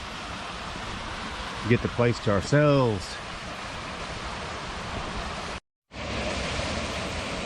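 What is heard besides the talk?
waterfall at Nine Penny Branch Nature Preserve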